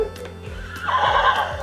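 A recorded horse neigh played back by a Kakadu interactive pen book for children: one clear whinny with a rising and falling tremolo, lasting about a second, accompanied by faint clip-clop hoof sounds.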